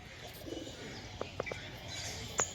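Madras pigeons at a loft of racing birds coo softly and faintly against a noisy outdoor background, with a few short chirps and brief murmuring voices.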